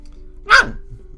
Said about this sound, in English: Barks for no reason.